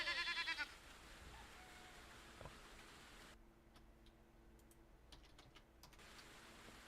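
Sheep in the medieval farming game Medieval Dynasty give a brief wavering bleat at the start. Light, scattered clicks like keyboard typing follow over a quiet background, and no one speaks.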